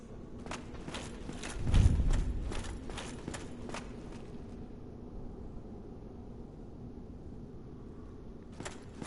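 Footsteps of a player character in Dark Souls Remastered, a string of quick crisp steps in the first half, then a long quiet stretch with one more step near the end, over a low ambient hum.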